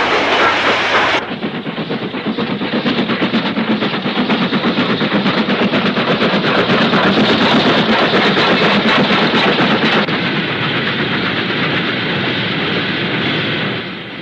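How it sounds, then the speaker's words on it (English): Two LMS 8F steam locomotives haul freight trains beneath Warrington High Level station on the West Coast main line, a loud, steady rumble of rolling wagons with rapid wheel clatter that runs on without a break. "two 8Fs are seen with freights to and from Liverpool direction"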